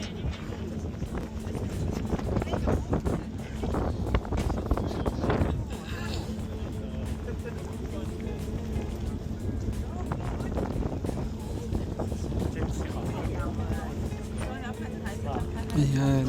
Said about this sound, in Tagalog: so narinig nyo nga, sobrang mahangin dyan sa ferry obviously.